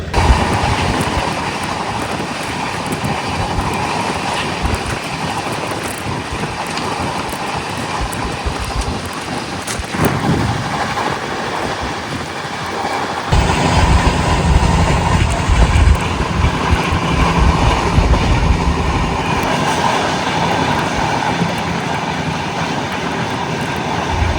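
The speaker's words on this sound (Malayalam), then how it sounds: "ഇതാണ് ഗുഡ്സ് ട്രെയിൻ നിങ്ങളിപ്പോൾ കണ്ടത് കേട്ടോ, മിൽക്ക് ടാങ്കർ." A goods train hauling milk tankers rumbles past in a loud, steady, broadband roar that continues without pause, shifting to a heavier, denser rush about halfway through.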